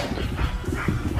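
A pet dog vocalizes close by in a house, a short continuous stretch of dog noise that is loud and near, with no talk over it.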